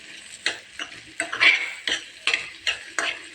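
Cut banana is stirred in a frying pan for a Malabari snack, with a spatula scraping and tapping in a quick, uneven series of close, crisp strokes and no talk.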